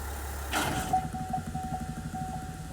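A vehicle engine with a GM 10L80 or Ford 10R80 ten-speed automatic stalls when the torque converter clutch engages in drive: a low idle rumble cuts off in a sudden thump, then a faint, uneven pulsing tone lingers.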